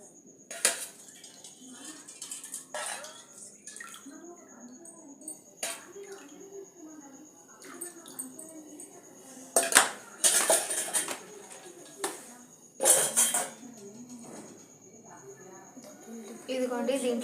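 A spoon mixes ground black pepper and cardamom in a bowl, giving scattered metallic clinks and scrapes, some sharp bursts close by, while a person talks throughout.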